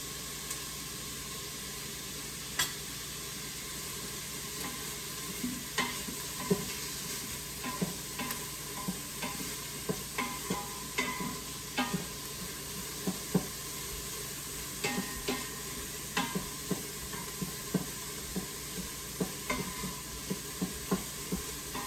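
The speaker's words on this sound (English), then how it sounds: "We're going to saute those onions for about 3 minutes before we do anything else." Onions sauté in a pan with a steady hiss and sizzle, punctuated by frequent sharp scrapes and clicks of stirring, close and alone with no talking.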